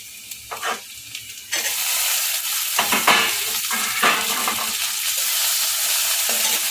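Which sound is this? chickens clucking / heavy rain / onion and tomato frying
onion and tomato frying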